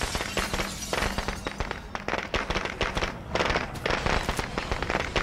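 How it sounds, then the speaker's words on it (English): Firecrackers going off in the video game State of Decay 2, a dense, irregular string of sharp cracks and pops that continues steadily throughout at fairly close range. "I'm hoping those firecrackers do actually go off."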